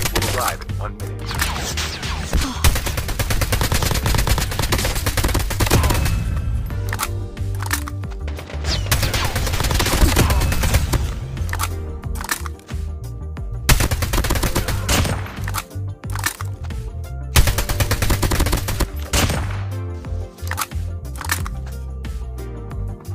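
Assault rifles fire in COD Mobile battle royale play as loud, rapid automatic bursts, several in a row with short pauses between them, backed by game sounds.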